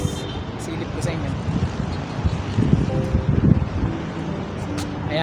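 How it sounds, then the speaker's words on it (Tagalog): Wind blows into a microphone outdoors in BGC, Taguig, a steady loud buffeting rumble that lasts throughout, with a voice faintly audible beneath it. "pasensya na kayo sa sound kung medyo pangit kasi sumasalubong yung hangin"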